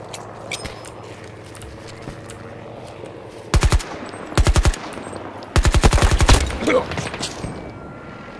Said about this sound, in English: He's got a mounted Vulcan.